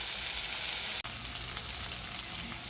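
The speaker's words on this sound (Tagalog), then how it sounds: "piniprito ko muna yung chicken para sa aking chicken and egg adobo" Chicken pieces frying in hot oil in a pan for chicken and egg adobo, a loud steady crackling sizzle with a brief dropout partway through.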